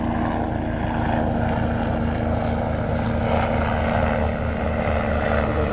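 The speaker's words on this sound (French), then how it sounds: "on attend que l'hélicoptère passe" A helicopter passes overhead in a steady, droning rotor-and-engine roar that holds for several seconds at moderate distance, with a faint higher hum, and no talk.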